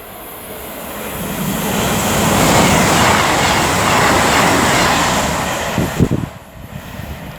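Avanti West Coast Class 221 diesel unit 221113 approaching at Lichfield Trent Valley on the West Coast Main Line, a loud rumbling roar that swells, holds steady and then eases off, with no voices.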